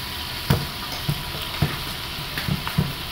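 Cabbage fries in a pan with a steady loud sizzle throughout, punctuated by about five soft thumps of stirring spaced unevenly, no voices.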